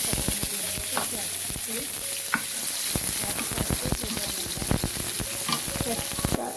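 Hot oil sizzles steadily in a pan as bottle gourd fries for a bhaji, a dense continuous crackle close by with small spoon clinks, and no voices over it.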